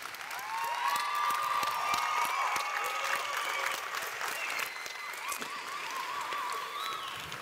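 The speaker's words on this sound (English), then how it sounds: "a hearty round of applause from your side" A graduation audience at an AgriSciences ceremony gives a long, hearty round of applause, steady clapping from many hands with scattered cheers and shouts rising over it throughout.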